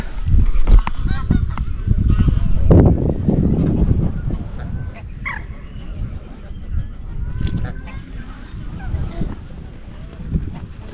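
Swans honk near water in a noisy outdoor setting, the calls coming in loud clusters early and then repeating more sparsely over steady background noise.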